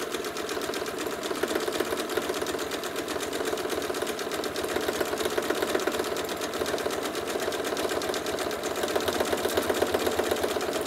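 A sewing machine stitches switchback lines across a quilt near a corner, running steadily and continuously with a fast, even rhythm at close range for the whole stretch, with no talking.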